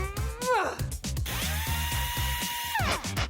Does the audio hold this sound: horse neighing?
no